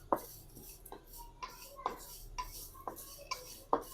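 A metal spoon clinks and scrapes against a pan while carp bait is stirred and roasted over high heat, with sharp irregular knocks repeating every half second or so, fairly close and without talk.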